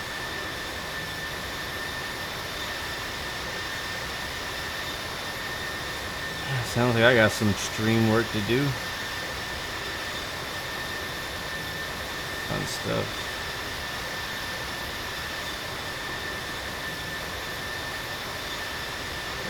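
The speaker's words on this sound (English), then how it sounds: "The engine sound is so loud though." Aircraft engine sound from the flight simulator game Infinite Flight, a constant steady hum with a sustained tonal whine, held at an even level throughout while someone talks briefly over it.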